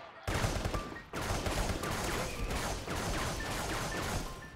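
Sustained gunfire from a firefight in the Contractors VR shooter game, with dense overlapping rifle and machine-gun bursts that run continuously at close range after a short quiet start.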